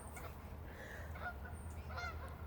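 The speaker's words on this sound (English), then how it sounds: "That's the geese going over. We have Canadian geese." Canada geese honk a few times as they fly overhead, faint and distant over a quiet indoor background, with no talk.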